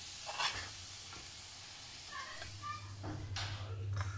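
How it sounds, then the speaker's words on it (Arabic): Spinach being stirred in a pan with salt and oil, giving a soft scraping stir and light sizzle at moderate level, with a low hum running underneath and no talking. "كنبقاو نحركو هكا في هذوك السبانخ حتى كيشربوا لينا هذوك المليحه مع الزيت"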